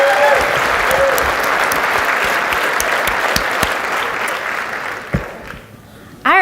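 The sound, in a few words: audience applause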